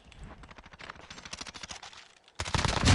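Rapid, dense bursts of automatic fire come from an FSS mini gun in a video game, a rattling stream that pauses briefly before a louder, heavier volley.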